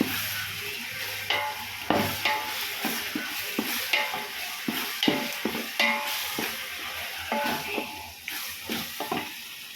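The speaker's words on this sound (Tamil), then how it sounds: "இந்த ஸ்டேஜில் நல்லா இஞ்சி பூண்டு வாசனை போகிற அளவுக்கு நம்ம பரட்டி விட்டுக்கலாம்" Paste sautéing in a pan: a soft continuous sizzle with frequent rhythmic scraping taps of a spatula stirring, close up, no voices.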